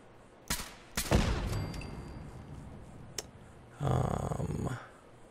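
A turret fires in the video game Fallout 4: a couple of sharp cracks followed by a longer rattling burst, then a brief tick and a second burst of rapid fire, moderately loud with no voices.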